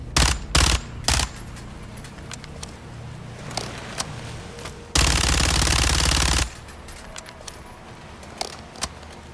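Gunfire in Call of Duty: Modern Warfare 2 campaign: several sharp close rifle shots, then a long loud sustained automatic burst, followed by scattered lighter pops and mechanical clinks, with no talk.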